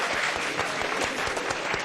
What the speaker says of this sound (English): do a round of applause, everyone, please.